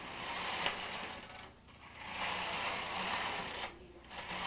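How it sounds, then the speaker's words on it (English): A BOND knitting machine carriage, threaded with main yarn, is pushed back and forth across the needle bed, making two sustained mechanical sliding whirrs separated by a short pause, close and fairly loud with no talk. "Thread the carriage with the main yarn. Knit 10 rows."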